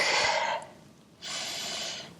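During a full-body stretching routine, a deep breath is drawn in and then let out, two long airy breaths close to the mic with a short pause between them.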